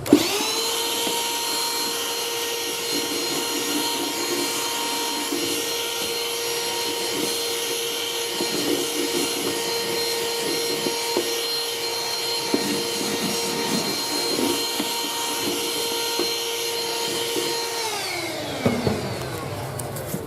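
A vacuum cleaner sucks dust off a subfloor during a laminate flooring install, a loud, steady whining drone with high harmonics that runs unbroken and close, then winds down and cuts off near the end.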